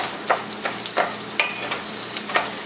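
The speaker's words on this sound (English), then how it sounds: "Stir from the center to the side. Try to not stop." Rice toasting in a pan for risotto alla Milanese is stirred steadily, each scrape of the spoon giving a soft rhythmic swish over a light, continuous sizzle, close and clear with no talking.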